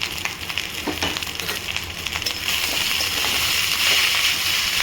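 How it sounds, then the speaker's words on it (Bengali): Leftover rice stir-fried in a pan with turmeric and salt, a continuous loud sizzle with scraping and stirring that grows steadier toward the end. "তবে আজকে ভাত ভাজা করলাম"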